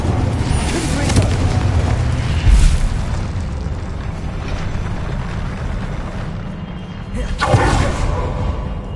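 A Confringo spell in Hogwarts Legacy bursts with a loud, close boom that has a whooshing tail, and a second blast follows a few seconds later amid game ambience and some talking.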